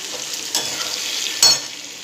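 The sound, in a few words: chicken frying in a pan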